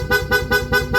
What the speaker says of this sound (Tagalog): Sa busina, kinabit natin kay Sir PIAA Auto Style horn. Dual horn setup, horn selector.